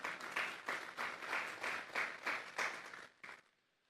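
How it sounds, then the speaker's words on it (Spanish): A church congregation claps together during a Sunday service, a loud, sustained burst of applause with rhythmic pulses that fades out near the end. "Vamos a darle un fuerte aplauso al Espíritu Santo esta noche"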